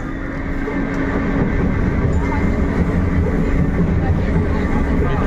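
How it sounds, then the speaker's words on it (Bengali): A Kolkata metro train running, heard from inside as a loud, steady low rumble and rolling rail noise throughout, with faint background voices. "এই যে মেট্রো"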